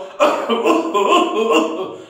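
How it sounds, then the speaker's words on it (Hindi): A single drawn-out cough from a nearby person, rough and breathy, lasting about two seconds. "इस तरीके से खांसी होना चालू हो जाएगी।"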